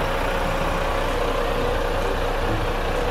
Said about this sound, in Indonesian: Ini untuk suara mesinnya. Halus banget ya. Suara mesin Volvo B11R Euro 5.